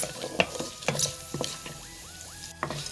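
Onion and tempering spices crackle and sizzle in hot oil in a pan, with sharp spoon clinks and scraping strokes against the metal over a steady frying hiss.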